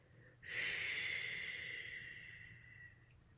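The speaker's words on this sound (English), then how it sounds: "Deep breath in. Moving it down through the abdomen, the hips, the thighs, the calves, out through your heels. Exhale through your mouth." A long, breathy mouth exhale during guided meditation breathing, close and soft, starting abruptly and fading slowly over about two and a half seconds.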